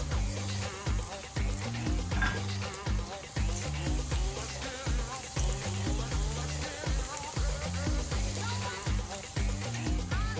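Ginger frying in vegetable oil over low to medium heat, a steady close crackle and sizzle with rhythmic knocks and scraping throughout, no talking.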